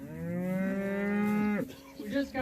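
Cattle on a pasture in Wisconsin in spring; one loud, close, drawn-out moo lasts about a second and a half, then cuts off, followed by quieter rustling and a short low call.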